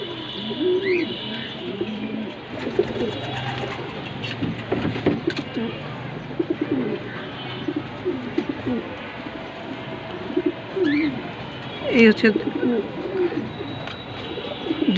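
Racing pigeons coo steadily and close by, with occasional chirps and light handling noises in the background.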